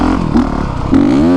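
A 2020 Honda CRF450R dirt bike on old trails, worn tires, revs hard into a sliding wheelie, its loud close engine note rising sharply near the end.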